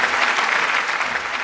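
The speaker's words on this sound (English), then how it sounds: "Let's welcome her on stage with a round of applause" Audience applause welcoming a speaker onto the stage at a business summit and awards evening, dense loud clapping that carries on steadily without pause.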